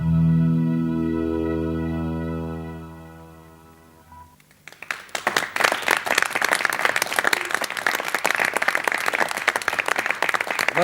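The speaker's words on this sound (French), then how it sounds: "vous êtes applaudis par des jeunes messieurs qui participent aujourd'hui à l'émission" Young men in a TV studio audience burst into loud, dense applause that continues steadily after a few seconds of sustained musical tones.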